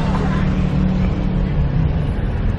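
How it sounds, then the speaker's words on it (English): Busy road traffic in Pattaya, Thailand, a steady dense rumble of engines passing close by, with no gaps throughout. "Wow, look at the traffic down here."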